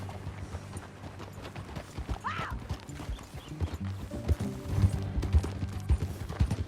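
Hooves clip-clop in a steady walking rhythm in Red Dead Redemption 2, with a horse whinnying briefly early on, fairly close and moderately loud.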